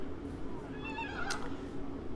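Horses whinny in a Total War battle, a wavering neigh rising and falling over steady low battlefield rumble, fairly faint amid the game's ambient noise.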